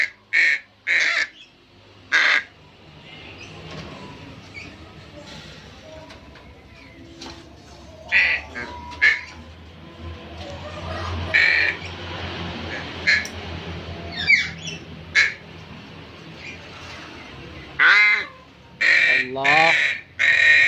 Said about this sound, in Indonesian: burung gagak hitam